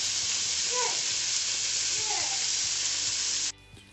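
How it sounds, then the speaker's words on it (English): Chuck roast and ground beef fry in a pan for chili, a loud, even sizzle that runs continuously until it cuts off abruptly near the end, with a couple of brief voice sounds faintly over it. "I'm just going to fry this for a minute or two until the meat's brown on all sides"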